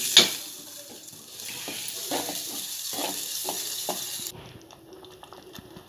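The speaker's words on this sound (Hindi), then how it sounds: "मसाला अच्छे से पक रहा है।" Ground masala of dried coconut, red chili powder, cumin, garlic and coriander sizzles and fries steadily in a pan, with soft stirring scrapes and a brief louder hiss near the start.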